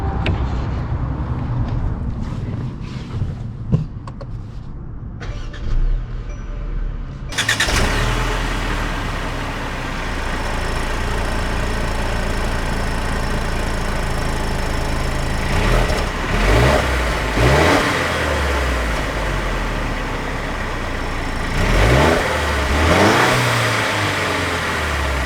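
A 2021 Mercedes C300 4Matic coupe starts up with a sudden burst of engine noise, then drives off with a steady mid-range engine hum and rising revs as it accelerates.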